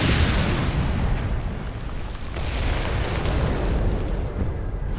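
Heavy, rumbling grenade blasts in Tom Clancy's Ghost Recon, a dense, loud wall of booming detonations that swells, briefly dips and surges again, close and overwhelming with no clear gaps.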